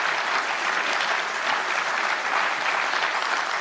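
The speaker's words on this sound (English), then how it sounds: "Judging by our audience applause" A conference audience applauds, dense steady clapping filling the room for several seconds at an even level with no voices over it.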